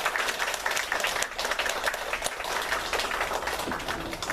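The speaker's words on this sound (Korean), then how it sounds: "우리 축하의 박수 한번 하도록 하겠습니다" A congregation at a Sunday church service claps in welcome for visiting members, a brief, even burst of applause from many hands filling the room.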